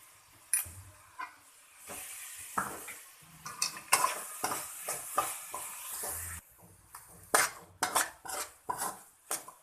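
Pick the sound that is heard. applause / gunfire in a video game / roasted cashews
roasted cashews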